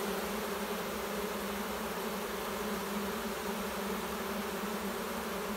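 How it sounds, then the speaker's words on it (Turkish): Honeybees at a queenless hive drone in a continuous, even buzz that holds steady throughout without any other sounds. "Bir kovan ana kaybetmiş."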